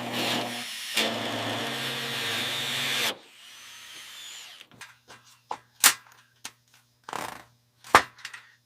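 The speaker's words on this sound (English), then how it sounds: "Drilling these out releases the body from the chassis." Rivets being drilled out of a crushed 1957 Chevy Bel Air body, a loud continuous whir of the drill followed by scattered sharp metallic clicks and knocks, close by with no talk.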